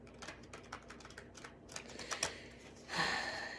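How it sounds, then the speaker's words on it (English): A deck of tarot cards is shuffled by hand in a quiet room, giving soft rapid riffling and flicking clicks that build into a denser burst of card noise toward the end. "I feel like I'm shuffling these forever."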